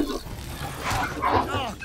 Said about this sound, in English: It's dogs.